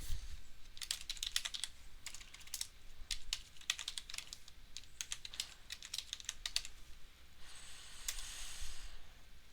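Keys on a computer keyboard clatter in quick bursts and short runs of tapping with pauses between, fairly quiet and close, with a faint hiss underneath and no voice.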